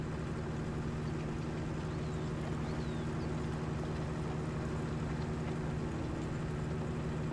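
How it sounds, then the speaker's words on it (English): A CLAAS tractor of roughly 240 to 250 horsepower runs its engine, a steady low droning rumble with a constant throb heard fairly close, unbroken throughout. "The CLAAS really sounds nice, the engine, especially when it's under load."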